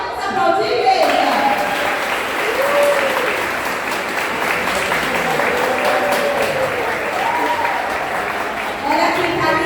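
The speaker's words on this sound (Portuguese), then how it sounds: "Vamos aplaudir, igreja." A church congregation at a Christmas cantata claps in sustained, even applause, with a voice speaking intermittently over the clapping.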